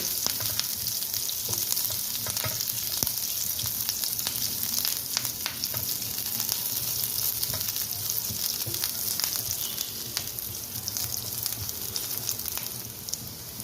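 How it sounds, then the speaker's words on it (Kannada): Curry leaves, green chilli, garlic and cumin fry in a pan with a loud, dense, continuous sizzle and crackle, close and steady, with occasional light stirring and no talk. "ಕರಿ ಲೀವ್ಸ್ ಇಷ್ಟನ್ನು ಚೆನ್ನಾಗಿ ಹುರ್ಕೋಬೇಕು"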